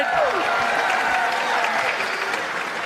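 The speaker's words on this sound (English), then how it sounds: "how about a big round of applause one more time for Paula Duncan" Audience applause fills an awards-show hall for a film festival, a dense continuous wash of clapping with a faint whistle early on, steady and fairly loud throughout.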